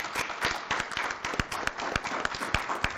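An audience at a Murfreesboro city school board meeting applauding, a close, lively patter of several people's claps with sharp individual hand strikes standing out, continuous throughout.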